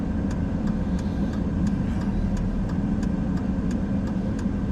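A small Japanese mini truck drives along a road, its engine a steady, moderately loud hum with a faint regular ticking on top, continuous throughout without speech.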